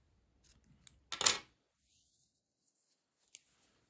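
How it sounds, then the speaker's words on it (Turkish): Scissors snip crochet yarn in a single sharp close cut, preceded by a few small faint clicks and followed by a lone tap, in an otherwise quiet room. "İpliği kesiyorum."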